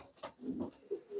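Racing pigeons in a loft give soft, low cooing calls, a few short murmuring coos close by and fairly quiet, with no one talking.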